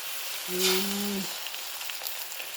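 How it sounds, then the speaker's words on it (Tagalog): Beaten egg going into a hot pan with boiled katuray flowers for an omelette, a soft continuous sizzle with a brief tonal hum near the start and small crackles afterward, fairly quiet and without talking. "lagay na natin ang ating itlog"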